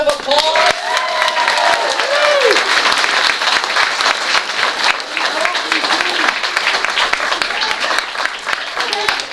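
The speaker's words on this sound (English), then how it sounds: "Let's give them a round of applause." A crowd applauds disc golf competitors at a junior championship, sustained clapping with some cheering over most of the stretch, while a voice speaks over the start.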